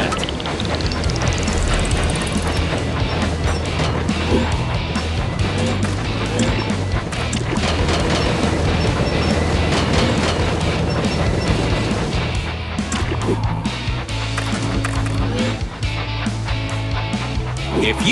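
A toy train in the Thomas & Friends video game rumbles steadily along its track with continuous mechanical clatter and low rolling noise, joined by other game sounds throughout.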